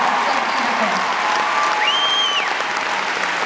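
Large concert crowd at a show in Birmingham applauding and cheering, a continuous roaring wash of clapping with a shrill whistle or scream rising above it midway.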